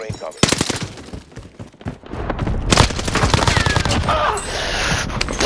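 Rapid bursts of automatic gunfire in a trios shooter video game, sharp cracks in quick volleys with louder booming shots, while players talk over the action.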